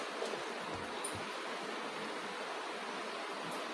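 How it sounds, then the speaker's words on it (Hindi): Water poured in while making a peach and apple milkshake at home, a continuous rushing stream heard close and steady throughout, with no talking. "थोड़ा इसमें पानी डालूंगी"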